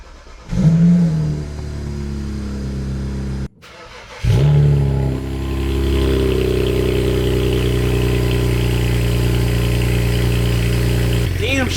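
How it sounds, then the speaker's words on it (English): A BMW 335xi engine cranks and catches, stalls briefly, then cranks again and settles into a steady running idle, loud and close, with voices heard around it. "I'm going to try and start it, and we'll see how it goes."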